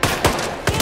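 Guns fire in Hitman 3 in a quick string of close, loud shots, three sharp bursts within a second over continuous game noise.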